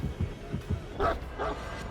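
In Dead By Daylight, the Hound Master's dog gives a few quick, close barks and yips over a low rumbling game backdrop.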